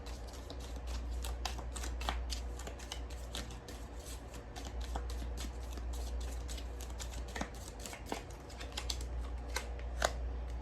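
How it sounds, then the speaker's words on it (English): Tea leaf oracle cards being shuffled close by in a steady run of crisp riffles and flicks, sustained for the whole stretch over a low background hum, with no talking. "So we're going to pull you a few tea leaf cards."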